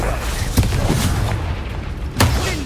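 An Expelliarmus spell is cast during combat in the Hogwarts Legacy video game, giving two sharp, bright magical bursts over a low rumbling battle backdrop.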